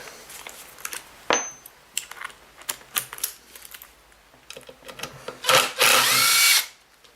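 Cordless power drill backing a countersunk screw out of the front housing of a used Kirby Avalir vacuum: a short whir, then scattered clicks and handling knocks, and finally a loud, sustained whine lasting about a second, close up with no talking.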